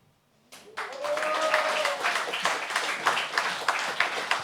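A slam poetry audience bursts into sustained applause for a poet at a slam tournament in Nice, dense clapping swelling after a brief quiet start and holding steady with scattered cheers and voices.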